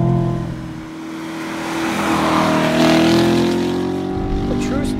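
A 2014 Chevrolet Corvette Stingray accelerates hard out of a corner on a race course, its engine note climbing in a steady, rising drone that is loud and close.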